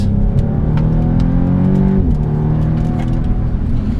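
A 2015 Audi S3 engine revs up loudly as it accelerates, its pitch climbing, dropping at a quick gear change, then rising again.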